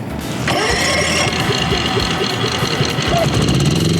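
An EcoFlow smart propane generator engine cranks and catches after a brief moment, then settles into a steady, close, loud idle with a rhythmic mechanical chug.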